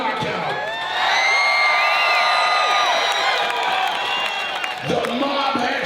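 A fight-night arena crowd roars with loud, sustained cheering, whoops and applause, swelling over several seconds before briefly dipping and surging again.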